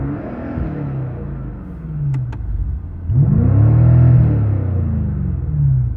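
Engine note of a 2018 BMW M5 played through the interior sound enhancer, a low steady rumble heard from inside the cabin that swells into a fuller, louder drone partway through.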